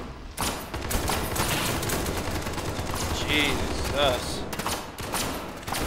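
MP7 submachine gun fire in the shooter SCP 5K, rapid bursts of automatic shots crackling steadily throughout, with a person briefly speaking over the gunfire.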